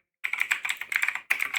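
Rapid, uneven clatter of keys on a computer keyboard, typed in three close bursts separated by short pauses, fairly near and alone without voices.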